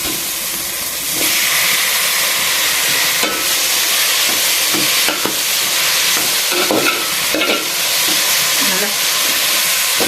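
Onions and chopped tomatoes sautéing in hot oil for a Chettinad chicken curry, a steady close sizzle with occasional stirring scrapes and clatters of the spoon against the pan.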